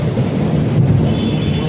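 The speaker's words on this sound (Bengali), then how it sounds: "বিভৎস লেভেলে বিদ্যুৎ চমকাচ্ছে" Thunder rumbles through a nor'wester thunderstorm, a dense, loud, low roar mixed with wind and rain noise, continuous and fairly close for under two seconds.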